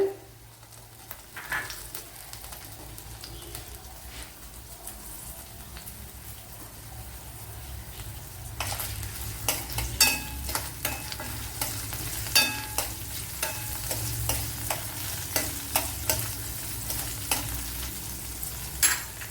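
Garlic, ginger and three green chilies fry in oil for a prawn curry. A soft sizzle swells louder midway, punctuated by sharp spatula taps and scrapes, with no talking.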